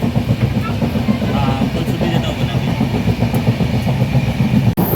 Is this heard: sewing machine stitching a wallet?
no